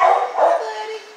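Ryder, a big dog at a county dog pound, gives a short, close bark that trails into a whine-like tone, loud and alone.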